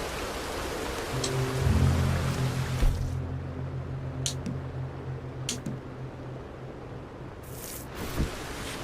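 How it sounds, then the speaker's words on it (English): Steady rain falls in Red Dead Redemption 2, a soft continuous hiss with a low droning hum underneath early on and a few faint sharp clicks and taps scattered through. "Hopefully it lets me cook in the rain."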